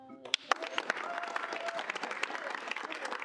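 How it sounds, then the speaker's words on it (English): A round of applause breaks out at a Kansas State University student senate meeting, with a few sharp claps at first that build into steady, dense clapping from the room. "Round of applause."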